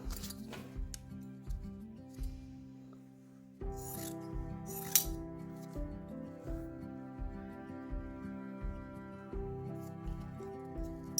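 Scissors or a rotary cutter slice a strip of quilting fabric for English paper piecing shapes, a series of soft rhythmic cutting and rubbing strokes close up with faint light clinks, no voices.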